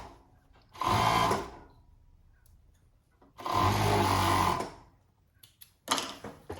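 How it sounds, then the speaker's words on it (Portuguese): A straight-stitch sewing machine stitches winter pajamas in two loud, close bursts of rapid whirring a few seconds apart, then a shorter start near the end, with quiet handling between runs. "você pode vir e rebater na máquina reta"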